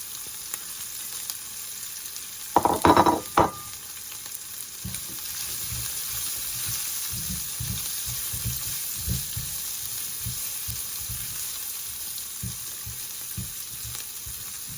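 One medium chopped onion frying in a pan, a steady close sizzle throughout with a brief clatter early on, then light rhythmic scraping and tapping of stirring over the frying.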